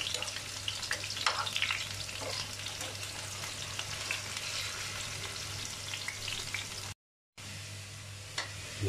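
Potatoes sizzling in hot oil in a pan, with steady frying crackle and occasional stirring scrapes, close and continuous with a brief cut near the end and no talk.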